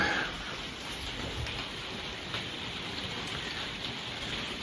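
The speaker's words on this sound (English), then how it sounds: "today it is rain" Rain falling outside a Lincolnshire garden makes a soft, steady, even patter, with no voices over it.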